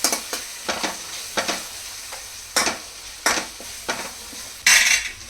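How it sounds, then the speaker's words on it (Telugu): Ginger garlic paste fries in a pan and is stirred in bursts, with regular scraping strokes of a spoon against the metal over a low sizzle, close up and without speech. "ఇది కూడా అల్లం వెల్లిపాయ పేస్ట్ పచ్చివాసన పోయే వరకు వేసేసుకుందాం"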